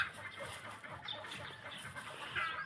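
Chickens in a mating pen, a Mel Sims cock kept with Cowan Flarii pullets, clucking and calling softly at a moderate distance, with a few brief higher squawks over a quiet outdoor background.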